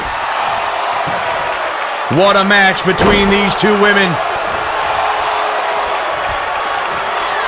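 A wrestling arena crowd in the WWE 2K22 video game roars steadily throughout, while a commentator speaks over it and a few sharp slam impacts ring out in the middle.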